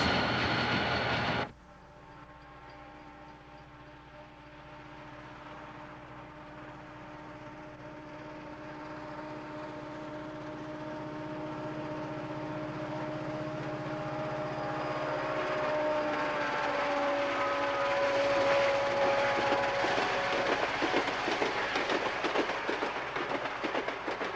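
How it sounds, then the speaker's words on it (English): A diesel locomotive rumbles steadily as it approaches and passes a station platform, its engine drone and tonal hum building gradually louder, with rail clatter toward the end. "Locomotives in the lineup run one by one to the station platform"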